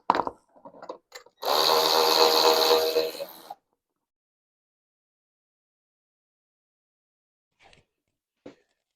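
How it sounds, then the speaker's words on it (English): An electric ratchet loosening the 11 mm seat strap bolt on a 1999 Harley-Davidson Sportster 1200, a close whirring burst of about two seconds after a few clicks, followed by near silence and faint taps. "Easiest way is to get in here with an electric ratchet."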